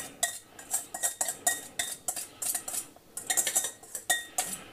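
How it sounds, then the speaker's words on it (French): Celeriac rémoulade gets mixed in a bowl, a run of light clinks and scraping taps against the dish coming in quick irregular bursts, close and fairly quiet with no voices. "on mélange tout ça avec les mains"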